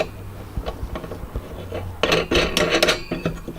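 A metal nut is fitted onto a threaded rod over a 3-inch length of 1/2-inch PVC pipe on a Celestron CGX mount, with close, sparse metallic clinks and scraping rasps, busier near the end.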